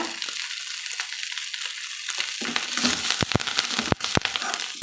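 Grated coconut and curry leaves fry in a pan, starting as a quiet sizzle and growing into louder, crackling stirring with scraping clatters near the end, close and without talk.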